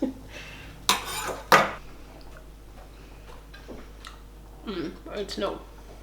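A knife cuts through firm, boiled food on a plate, giving two sharp clinks of cutlery against crockery early on, then softer scraping and tapping close by.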